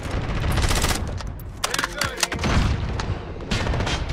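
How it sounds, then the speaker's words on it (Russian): Loud, close bursts of rapid gunfire in the video game Call of Duty: Modern Warfare, with sharp cracks and heavy booms, some shots in quick succession, amid a busy, noisy background. "выстрелы стали совсем по-другому слышаться"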